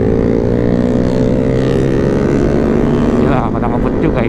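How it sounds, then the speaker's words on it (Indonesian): A motorcycle engine drones steadily at close range, likely from fast riding on an early-morning road with a Suzuki GSX-S150 and a CBR 250 in the group. The tone shifts and a burst of wind buffeting comes in near the end. "Gila, pada ngebut juga ini bawa motornya."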